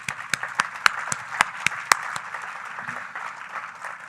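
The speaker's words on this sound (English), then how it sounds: "So please, a small applause to them." Audience at a conference closing session giving a short round of applause, with a few sharp, close claps standing out over a steady patter of hands that thins out toward the end.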